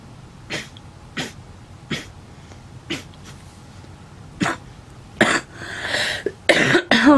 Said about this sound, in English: Oh, that made me really cough.